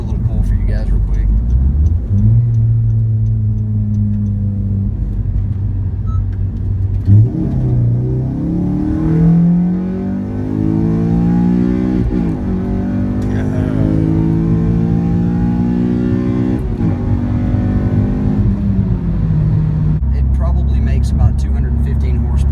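Modified 9th-generation Honda Civic making a hard acceleration pull: loud engine revs climbing through several gears with rising pitch sweeps and brief dips at the shifts, heard close from inside the car, the roar continuous throughout.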